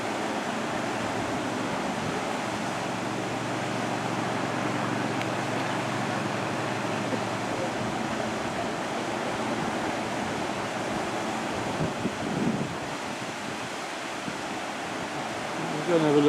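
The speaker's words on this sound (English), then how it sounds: "this is the River Leven as it flows towards the loch" Continuous rushing water of the River Leven in Kinlochleven, Scotland, flowing toward its loch, a broad even roar with some wind noise mixed in.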